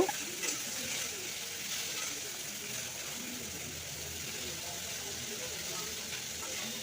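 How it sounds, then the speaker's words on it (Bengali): Cauliflower florets frying in oil in a pan for a wedding-style cauliflower and fish curry, a steady even sizzle that holds at one level throughout, with no talk. "ফুলকপিগুলো বেশ যখন লাল মতন ভাজা হয়ে যাবে তখন আমি এগুলোকে তুলে নেব"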